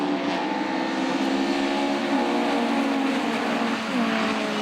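Caterham Superlight race cars lapping Oulton Park in a 2001 round, a loud continuous engine drone with rising and falling pitch as the cars run close together, no voices.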